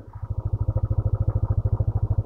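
A parked or slowly moving motorcycle engine near a waterfall viewpoint deck, chugging in a steady, rapid pulsing rhythm close by, with no talk over it.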